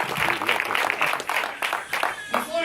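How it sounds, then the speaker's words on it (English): A church congregation on a Sunday gives a hand clap of praise, crowd clapping and cheering mixed with voices and excited chatter, fairly close and lively throughout. "Can you please join me in giving God a loud hand clap of praise?"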